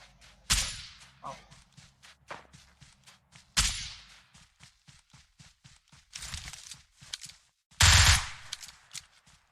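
Gunfire in PUBG Mobile: sharp bursts of shots and rapid automatic fire with quick single reports in between, loud and close, with a little talk.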